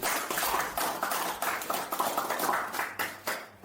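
Crowd applause greets a new company director at a formal announcement, a steady wash of many hands clapping at moderate distance, rising and falling over a few seconds with no talking.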